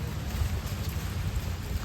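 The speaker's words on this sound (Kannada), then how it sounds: "ಈ ಥರ ಮಳೆಯಲ್ಲಿ ಯಾರಾದರೂ ನೀರು ತಣ್ಣೀರು ಸ್ನಾನ ಮಾಡಿದ್ದೀರಾ?" Rain falls at the Kottiyoor temple grounds as a low, steady wash of noise that stays even throughout, with no voices.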